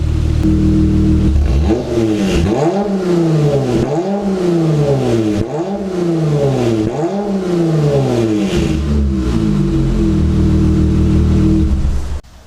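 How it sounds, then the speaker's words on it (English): A car engine idles then revs repeatedly through a Vicrez BD cat-back exhaust, four rising and falling pulls, deep and throaty, loud and close, before settling back to idle. "let me give you a couple of revs so you can hear the Vicrez Performance exhaust"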